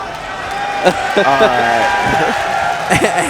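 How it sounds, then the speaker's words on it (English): At a Guilty Gear Xrd Rev2 top 8 match at a CEOtaku 2018 fighting game tournament, a loud crowd roars and cheers throughout. Excited commentators talk over the noise. "And the crowd erupts."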